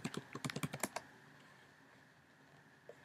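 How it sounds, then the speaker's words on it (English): Fast bursts of keystrokes on a computer keyboard, about a second of rapid clicks close by as a password is entered, then quiet room tone with one faint tap near the end. "Type in your password."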